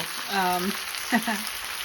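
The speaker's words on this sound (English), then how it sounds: "Listen to that sizzle." Zucchini with garlic and pepper sizzles steadily in a hot frying pan, a constant bright hiss up close, while a voice speaks briefly over it.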